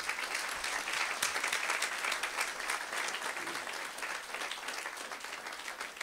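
A church congregation claps loudly and steadily through a worship service, a dense, continuous wash of applause from a full room without a pause.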